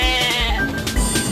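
A goat bleats loudly and close by, one wavering, drawn-out cry that fills the whole moment with no other sound around it.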